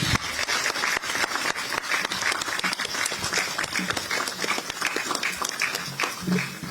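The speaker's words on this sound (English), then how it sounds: "please give them a resounding round of applause" A crowd at a Bank of Ghana event bursts into sustained applause, dense and steady throughout with sharp individual claps standing out and faint voices underneath.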